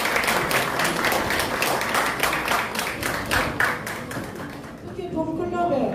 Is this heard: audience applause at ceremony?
yes